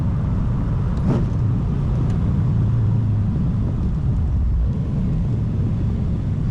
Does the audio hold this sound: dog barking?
no